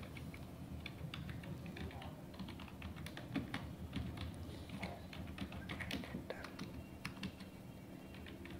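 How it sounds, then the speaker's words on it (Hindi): Fingers type on a computer keyboard with quick, uneven clicks and taps that keep going through the whole stretch. The keystrokes are soft and close, over a low room hum. "अल्ट सी आप कीबोर्ड से प्रेस करिए"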